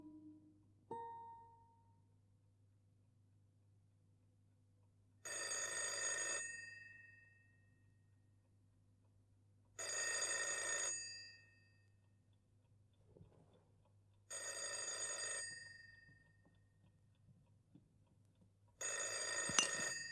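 An old-style telephone bell rings in four separate bursts, each about a second long with pauses between, in a quiet room with a low steady hum underneath.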